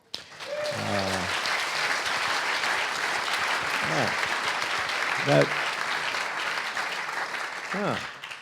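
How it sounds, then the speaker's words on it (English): A festival audience at the Zurich Film Festival breaks into sustained, steady applause from a large crowd, while a voice speaks briefly over it several times. "So when I say thank you, you applaud?"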